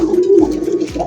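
Pigeons kept in a loft coo loudly and close by, one low rolling coo running into the next with no talking.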